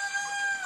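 Rooster in a backyard pen fed ground corn and oats, giving a brief, soft cluck close by with no one talking.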